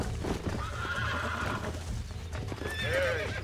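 Horse hooves clip-clop steadily in Red Dead Redemption, followed near the end by a loud whinny, all close and prominent.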